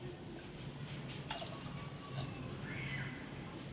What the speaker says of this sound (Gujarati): હવે આપણે નાખી દઈશું એમાં બે ગ્લાસ પાણી